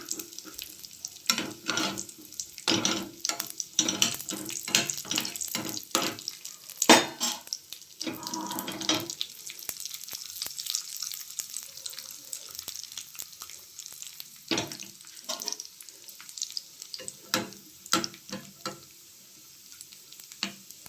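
Cashews and raisins fry in ghee with crackling, sputtering sizzle and bursts of spoon stirring against the pan, fairly close and without talk.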